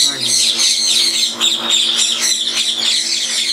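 Ringneck parrots in an aviary setup squawk and chatter nonstop: dense, shrill, overlapping calls close by, with no break over the few seconds.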